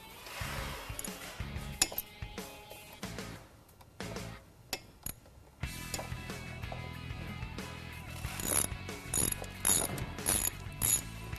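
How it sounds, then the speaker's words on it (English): A ratchet tightens the brake caliper bolts on a sport motorcycle while new Galfer brake pads are fitted, giving close mechanical clicking and ratcheting bursts with short pauses and a few metallic clinks, and no talking. "you're going to want to tighten up your caliper bolts"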